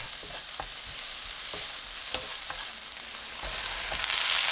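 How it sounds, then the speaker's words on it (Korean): Chili and garlic stir-fried in melted butter in a pan, a steady close sizzle with scattered scrapes and taps of stirring throughout. "고추 넣고 10초 볶습니다"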